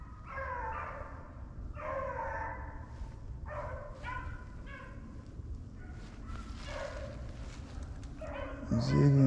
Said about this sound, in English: They running two rabbits now.